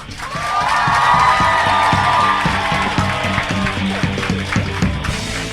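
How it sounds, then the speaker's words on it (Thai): A large audience at a business recognition event claps and cheers loudly and steadily, with upbeat music playing under the sustained applause. "ขอเสียงปรบมือดังนะครับ ให้คุณจอยทาลีทิพย์ ชัยการจนกิจครับ"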